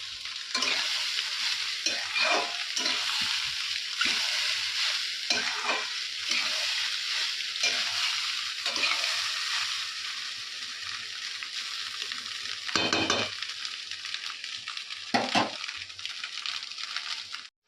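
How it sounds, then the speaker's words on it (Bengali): Leftover rice is stir-fried in a kadai for a home breakfast, giving a continuous loud sizzle with frequent scraping and tossing strokes of the spatula, rhythmic and close, with no voices. "তো দেখো আমার ভাত ভাজাটা প্রায় হয়ে গেছে"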